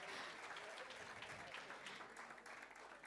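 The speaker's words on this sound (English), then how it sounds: "Another big round of applause." An audience at a youth event applauds faintly and from a distance, a soft, even patter of many hands lasting a few seconds.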